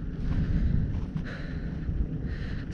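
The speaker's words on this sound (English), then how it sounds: "It's pretty windy up here." Low rumbling wind buffets a windsock-covered action camera microphone in Scotland, a continuous muffled roar with gusty swells throughout.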